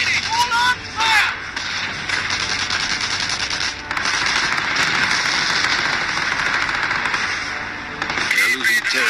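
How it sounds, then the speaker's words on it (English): Small arms gunfire in the Company of Heroes strategy game, rapid crackling bursts running steadily across the scene, loud and continuous under radio-style voice lines and game chatter. "Small arms fire."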